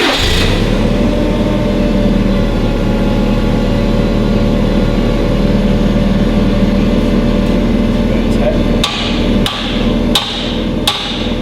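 A forklift engine idles steadily and loud through the whole stretch while a load is lowered onto a stand during a tractor engine restoration, with a few sharp metallic knocks near the end.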